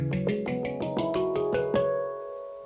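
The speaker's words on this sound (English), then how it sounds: "So this is the handpan played by the Nails." Handpan sample played with the nails, from an MPC expansion, heard as about ten quick bright metallic strikes in a steady run, each with a ringing tone, followed by a sustained ringing tail.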